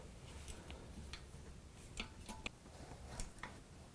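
Quiet, repeated light scraping ticks from a disc brake rotor rubbing against its caliper on an AOVO Bogist Mini V2 folding e-bike, coming in an irregular rhythm as the wheel turns, close and faint with no talk.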